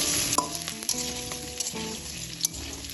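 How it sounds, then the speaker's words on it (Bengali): Boiled cauliflower and potato frying in hot mustard oil for vegetable rice, with a steady close sizzle and scattered clinks and scrapes of stirring, no voices. "এখন আমি এর মধ্যে সিদ্ধ করে রাখা ফুলকপি এবং আলুটা দিয়ে দেব। হালকা একটু ভেজে নেব।"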